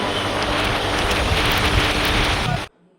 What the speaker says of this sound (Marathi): पाऊस काय थांबायचं नाव घेत नाही.